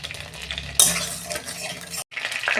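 Oil sizzles in a wok after pomfret fish have been fried and more oil is added, with stirring and metal scrapes; the crackle flares sharply, stops briefly, then resumes.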